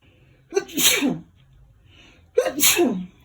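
Two sharp sneezes, each with a quick intake and forceful burst, separated by a quiet pause of about two seconds.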